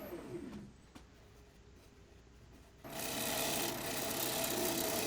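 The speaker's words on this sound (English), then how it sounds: "It's a negative rake scraper from Glen Lucas, and it's fresh off the grinder also" A freshly ground negative rake scraper from Glen Lucas shapes a wooden dinner plate charger on a lathe, producing a steady close rasping scrape that swells to a loud continuous rush after a quieter stretch.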